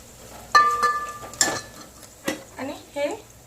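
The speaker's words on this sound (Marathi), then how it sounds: "हो का हळद सर्व छानपैकी परतून घ्यायचं" Turmeric and spices sautéed in a pan for a village-style dal dish, heard as metal scraping and clinks of a spoon against the pan with a faint sizzle, fairly close and intermittent.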